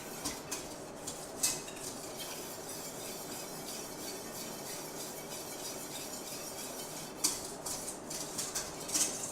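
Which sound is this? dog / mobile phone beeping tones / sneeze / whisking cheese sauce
whisking cheese sauce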